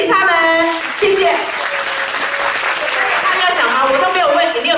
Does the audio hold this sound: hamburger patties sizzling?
no